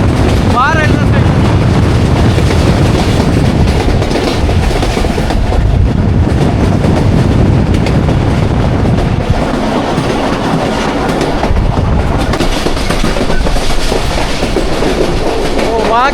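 A passenger train, the Jaffar Express between Attock and Rawalpindi, rumbles steadily along the rails with continuous rolling noise and occasional clatter, heard from close by with some wind buffeting throughout.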